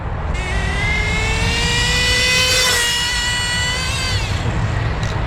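An Associated RC10GT gas-powered RC truck engine screams at high RPM, a loud steady whine that rises in pitch and then trails off slightly as the truck moves away.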